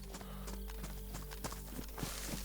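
Footsteps in the game DayZ fall in a quick, steady patter of hollow knocks, close and distinct over a low hum, with no talk.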